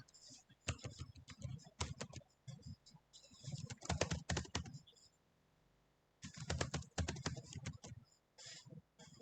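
Rapid clicking keystrokes on a computer keyboard while HTML and Tailwind code is written, coming in dense bursts of typing separated by short pauses, close and clear, with no talking over it.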